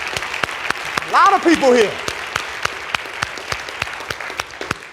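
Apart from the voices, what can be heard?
audience applause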